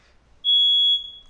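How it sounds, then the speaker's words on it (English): A household smoke alarm chirps once, a single clean high-pitched electronic beep lasting about half a second in an otherwise quiet room. "I think my wife tripped the fire alarm"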